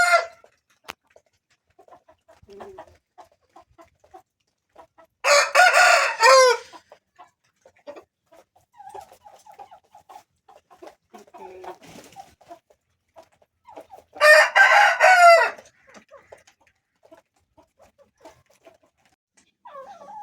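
Pettamaru breed roosters at a farm in Nellore crow loudly in two long separate calls, with scattered clucks and soft farmyard sounds in the quiet gaps between.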